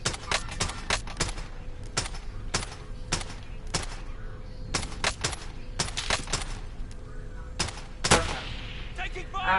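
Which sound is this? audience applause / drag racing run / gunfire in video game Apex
gunfire in video game Apex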